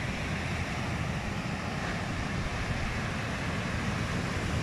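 Ocean surf rolls in at high tide on Kairakau Beach, a steady broadband wash of breaking waves with wind noise over the microphone, continuous and fairly close, with no voices.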